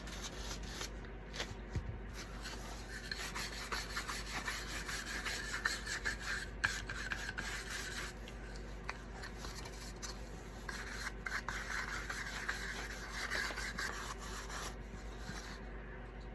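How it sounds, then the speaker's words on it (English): A brush spreads clear wax over a wooden shutter in a quiet, close scratching rub. The back-and-forth strokes repeat steadily with no voices. "Now I'm going to go over it with some clear wax."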